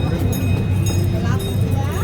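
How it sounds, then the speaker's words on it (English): A quarter-scale replica of the 1893 Huntington train runs on a family farm ride, its low rolling rumble steady beneath a person talking. "You are traveling on a quarter-scale, exact replica of the 1893 Huntington train."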